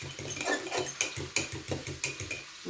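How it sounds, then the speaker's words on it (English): A whisk beats a half-cup sauce mixture in a bowl, making quick rhythmic metallic clinks and scrapes, several strokes per second, close and moderately loud. "So let's whisk this and check the consistency."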